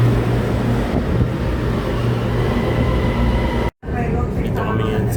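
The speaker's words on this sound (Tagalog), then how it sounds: "Ayan na yung tren namin." A train pulls into an MRT station in Bangkok with a loud, steady rumble and hum close at hand, then a sudden brief drop and a quieter tail, with people talking under it.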